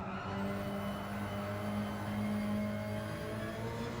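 A race car in Gran Turismo 7 holds a steady engine note with a faint tire hiss through a flat-out section of track. The sound is quiet and continuous, with no voices.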